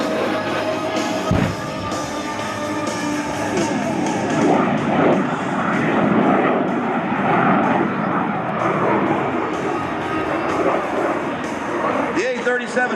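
An A-37 Dragonfly jet roars past in a 45-degree nose-low bombing pass at an air show, a sustained loud rush of engine noise, with a voice talking over it.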